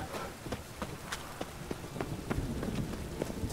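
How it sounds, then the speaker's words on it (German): Rain falls in The Witcher 3, a steady wash of patter with scattered sharper drops and a few low rumbles, loud and continuous with no talking. "Hat nicht nach Regen ausgesehen."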